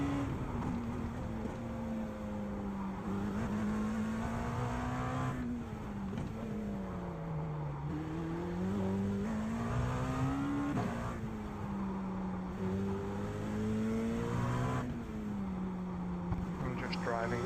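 GT3 race cars in a racing video game at Long Beach, their engines droning steadily with rising and falling revs through gear changes, close and continuous, while a voice talks over the top.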